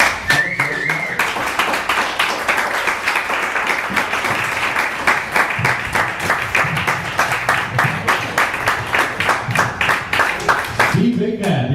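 A comedy-set audience claps, with rhythmic, fairly close hand claps running through most of the stretch while a voice speaks over them at the start and the end.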